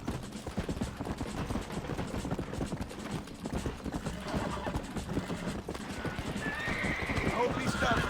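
A horse in the 2010 Red Dead Redemption video game gallops with steady, rapid clip-clop hoofbeats and whinnies near the end, while voices talk over the game audio.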